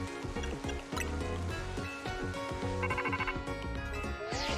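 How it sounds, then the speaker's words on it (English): Rotom phone ringing in Pokémon Legends: Z-A, a repeating electronic chime pattern over layered game music, with no speech. "Rotom phone is ringing."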